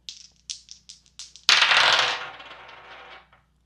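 Zodiac dice tap lightly several times, then are thrown and tumble in a loud rattling clatter that fades out over a couple of seconds, with no talking.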